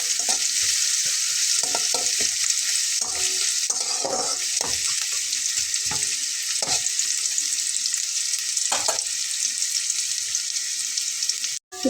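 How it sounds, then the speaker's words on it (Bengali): Onions frying lightly in a pan for an egg and red lentil dish, a dense continuous sizzle broken by frequent spatula scrapes and taps, close up and without speech, cutting off abruptly at the end. "হালকা একটু ভেজে নিয়ে পেঁয়াজটা দিয়ে নেব"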